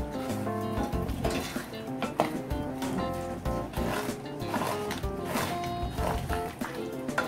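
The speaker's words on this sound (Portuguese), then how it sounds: "E vou deixar aqui em fogo alto, limpando todo esse fundo" A utensil scrapes the bottom of a pan of tomato over high heat while cooking vaca atolada, giving repeated rough scraping strokes and metallic clinks over a constant tonal bed.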